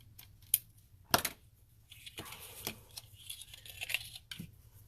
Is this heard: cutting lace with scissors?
yes